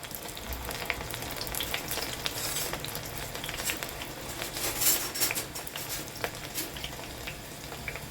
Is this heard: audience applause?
no